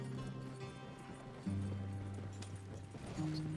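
Horses galloping in the Red Dead Redemption 2 video game, a steady run of hoofbeats carrying on under tonal in-game music, with no voices over it.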